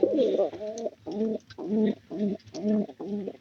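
A pair of pigeons coos up close in a regular run of soft, throaty, rolling calls, each a short burst followed by a brief pause.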